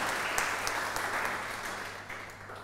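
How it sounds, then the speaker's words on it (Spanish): A church congregation applauds in praise during a Spanish-language sermon, a steady wash of clapping that holds then slowly fades out over a few seconds. "Dele un aplauso al poder de la palabra, la sangre, el nombre y el cuerpo de Cristo."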